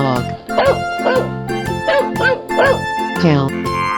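Cartoon-style dog barks and yips from a 3D animal slide video game, several short calls in quick succession over steady game music.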